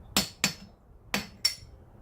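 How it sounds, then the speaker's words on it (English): A hammer striking a drift to knock a spanner ring loose on a 1972 Mopar steering gearbox: four sharp metallic blows in two quick pairs, close and ringing briefly, with quiet gaps between. "Took the hammer here and just knocked it loose like this here."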